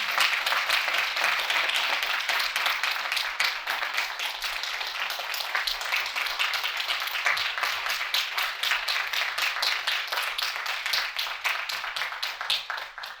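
An audience applauds steadily after a speech at a Bhopal survivor tour event. The clapping is dense and sustained, holds at a fairly even loudness and thins slightly near the end.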